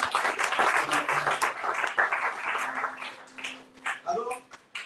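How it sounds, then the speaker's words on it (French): A church congregation at a sermon applauding and cheering for Jesus: dense, sustained clapping mixed with raised voices and acclamations, tapering into scattered claps and shouts toward the end. "Est-ce que quelqu'un peut acclamer Jésus?"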